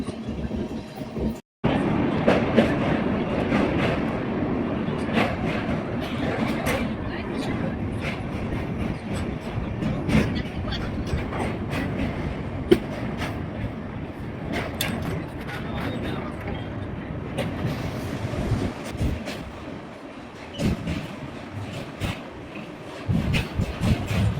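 Amrit Bharat Express (Sealdah–Varanasi service) crossing the Malviya bridge, heard from inside as a loud, steady rumble of wheels and carriages with rhythmic clatter continuing throughout, with faint voices at times.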